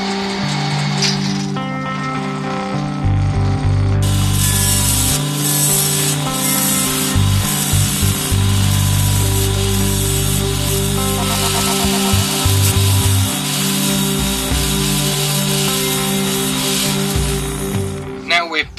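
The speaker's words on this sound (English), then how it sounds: "Bowl gouge." Wood turned on a lathe with a bowl gouge while shaping a spinning top, a steady motor hum under loud scraping and rubbing cuts that run continuously with brief breaks, close and dominant throughout.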